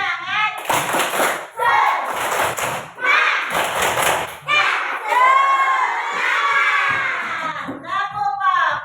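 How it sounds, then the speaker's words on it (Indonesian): A classroom of children doing a rhythmic spirit clap, bursts of loud unison clapping alternating with group chanting and shouting, close and energetic. "Ayo semuanya tepuk semangat."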